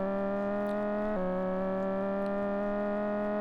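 Porsche 944 engine in the Amiga racing game Turbo Cup, a steady buzzy synthesized engine drone that steps down in pitch once partway through and then holds, with no talk.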